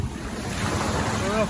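Sea waves wash steadily at Jomtien Beach in Pattaya, with continuous surf and wind rushing across the microphone, loud and close throughout.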